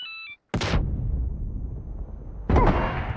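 Gunshots trade in the video game Cowboy Royale: one sharp loud shot with a long decaying tail, a gap of fading echo, then a second heavy shot near the end after a brief electronic tone at the start.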